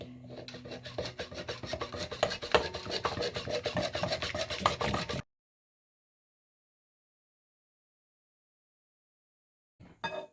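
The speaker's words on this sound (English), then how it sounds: "the salt, and the yeast, and we will whisk this very well" Dry flour, salt and yeast whisked together in a bowl for cheesy vegetable bread dough, a fast, steady scratchy rasping of strokes for about five seconds, then silence, with a brief return at the end.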